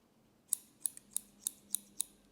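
Six crisp scissor snips cutting hair in a same-layer cut for a medium-long layered women's style, evenly spaced and close, quiet with no voices.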